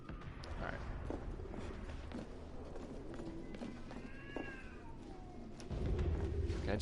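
A cat meows briefly in the video game The Order 1886, a few short rising cries in the middle amid ambient game sound and rumble, fairly faint against the background.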